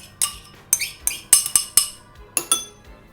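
A spoon knocking against a bowl while cocoa powder and red food colouring for Halloween skull cupcakes are mixed in, about eight bright, sharp clinks at an uneven pace, close and clear with no voice.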